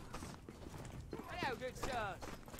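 Horse hooves in the medieval combat game Mordhau: a short run of clip-clop beats close by, mixed with clanking mechanical sounds and faint background game noise, with speech-like sounds over part of it.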